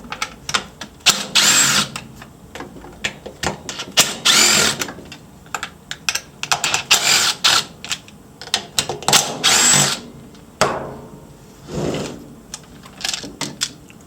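A power tool removes the muffler and starter bolts on an Echo CS-590 Timberwolf chainsaw, with repeated short whirring bursts and ratcheting clicks separated by brief pauses, close and loud.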